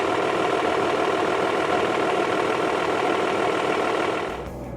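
A Toyota Land Cruiser diesel engine runs steadily and loudly up close with a rough, even rumble, then fades abruptly near the end.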